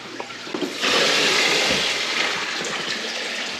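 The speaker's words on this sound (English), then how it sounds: "And yeah, I'm putting tap water in it." Tap water pours steadily into a reptile tank, a broad rushing splash that starts abruptly under a second in and continues loud and even to the end, with no talking.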